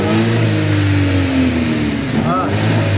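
Chevrolet Cobalt engine revved during a repair for a rattling noise, a loud steady engine drone that rises in pitch as the throttle opens, then settles back near the end.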